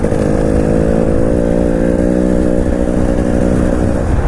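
A 2019 KTM 300 EXC TPI dirt bike engine runs loud and close, holding a steady, buzzing drone with only slight rises in pitch across the whole stretch; no one speaks.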